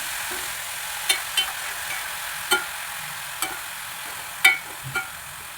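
Chopped ash gourd with salt is stirred in a pan for Kerala-style thoran, a handful of sharp spoon scrapes and taps at irregular intervals over a faint, steady background hiss.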